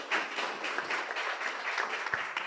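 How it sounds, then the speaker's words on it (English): Applause from the audience of a panel discussion at an event on scaling science and technology startups, a light, steady patter of clapping lasting a few seconds. "So a big applause for all this panel."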